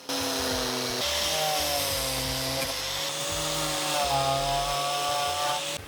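Steady, loud whine of a power tool stripping old underbody coating from a BMW E28, with shifting pitch as the tool loads and frees up, running continuously and close by.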